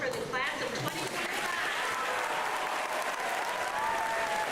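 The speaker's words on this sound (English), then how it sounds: "One big round of applause for the class of 2025." An auditorium crowd at an 8th grade graduation applauds the class of 2025 with a steady wash of clapping that holds at full strength, and voices murmur underneath.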